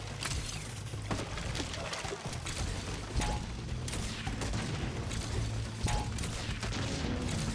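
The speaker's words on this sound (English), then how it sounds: "It's explosions for you." Dense, continuous rumbling blasts with sharp cracks and booms layered over a low mechanical drone, like busy game combat explosions, from Crash Bandicoot 4.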